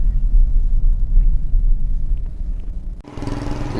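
A Toyota Urban Cruiser's engine with manual transmission rumbles low and steady, then revs sharply near the end with a rising whine as the wheels spin, loud and close.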